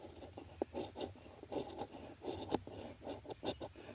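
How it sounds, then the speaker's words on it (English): A ferro rod is scraped slowly and steadily to build up shavings: a string of short, close rasping strokes in an uneven rhythm, quiet and alone without sparks. "you scrape off some of this ferro rod. Do it slowly and steadily without making a spark"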